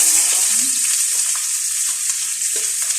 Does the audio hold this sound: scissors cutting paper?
no